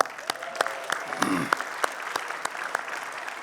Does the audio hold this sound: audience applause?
yes